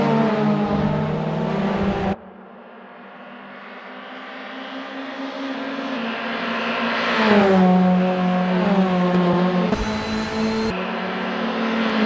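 Race cars lapping Road America in Assetto Corsa, GR Cup machinery droning and shifting as engines rise and fall while cars pass one after another, loud and continuous with no talk.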